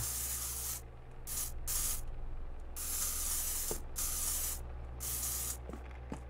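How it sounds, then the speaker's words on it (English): A spray paint can hisses in several bursts of differing length, short and long sprays separated by brief pauses, close and clear with a few faint clicks between. "Spray paint."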